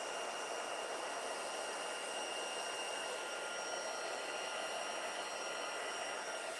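A heat tool blows a steady, faint, even hiss with a thin high whine as it melts embossing powder on a card, unbroken and without voices.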